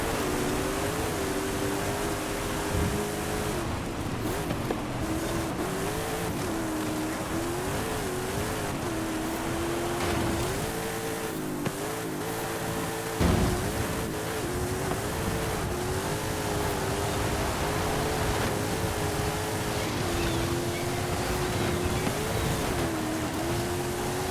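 A truck races on a track in Forza Horizon 5, its engine droning steadily and rising and falling in pitch as it revs through the run, loud and continuous with no talk.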